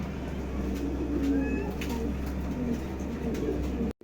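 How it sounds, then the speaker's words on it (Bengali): Pigeons in a pair of long-face almond and yellow birds coo softly at a loft, low murmuring calls over a steady background hum, no talking. "দুই জোড়া কবুতর আছে।"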